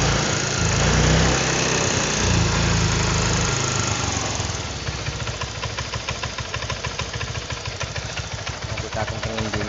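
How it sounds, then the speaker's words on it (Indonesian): Honda Vario 125 scooter engine running loud and close, a dense rough roar for the first few seconds, then settling into a steadier pulsing idle with rapid ticking firing beats. "Nah, ini mau digas, cuman dia tidak mati ya."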